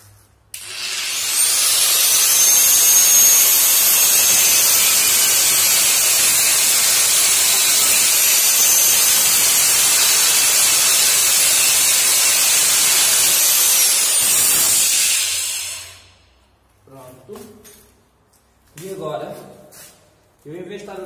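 A cutting tool shrieks steadily through metal for about fifteen seconds while footpegs are made for a Keeway Superlight 125 motorcycle, then stops and someone speaks briefly.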